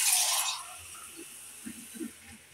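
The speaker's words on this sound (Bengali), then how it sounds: "আর একটু পানি দিয়ে দিলাম" Water is poured into a pot of beef as it cooks, giving a brief splashing gush at the start. A few soft drips and bubbling sounds follow.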